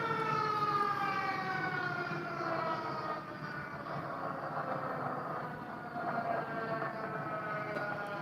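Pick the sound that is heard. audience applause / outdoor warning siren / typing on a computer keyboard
outdoor warning siren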